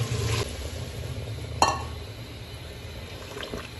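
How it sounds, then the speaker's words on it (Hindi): Water poured into a pot of simmering chickpea and meat curry, a soft liquid gush and faint sizzle with a small clink, heard alone with no talk. "मैं इसमें आधा किलो पानी ऐड कर रहा हूँ।"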